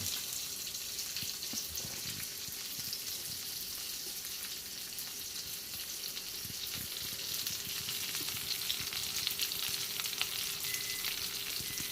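Meat sears in a hot pan with a steady, dense sizzle and crackle running throughout, close and even, with occasional light clinks and no talking.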